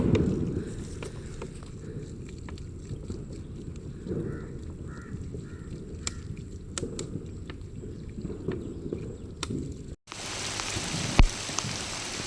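Heavy rain pattering steadily with scattered drops striking nearby surfaces; the downpour briefly cuts out before resuming with a brighter, harsher hiss.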